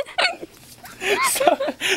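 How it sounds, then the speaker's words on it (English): Repeated short, sharp hiccups from someone, several quick voiced gulps spread across two seconds, close and fairly loud, mixed with chuckling. "Give you the hiccups too."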